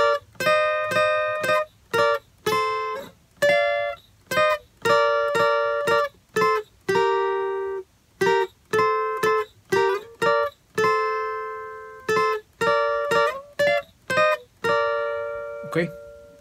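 A guitar plays a melodic phrase from a song in clean, separate plucked notes, many short and a few sustained, in an uneven rhythm, up close and alone without any voice.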